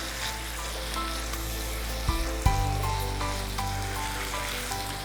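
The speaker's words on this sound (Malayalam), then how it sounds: "ഇതെല്ലാം കൂടി കിടന്ന് മൊരിയട്ടെ" Ginger, garlic and shallots sizzle and fry with chicken in a pan, a steady close-up hiss with a couple of sharp clinks from stirring partway through.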